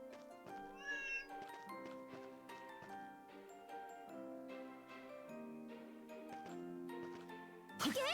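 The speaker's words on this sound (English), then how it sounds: "Don't mind me, kitty cats." Cats meow in the video game Ys IX: Monstrum Nox, a brief high mew rising near the start over continuous melodic background music that dominates the rest.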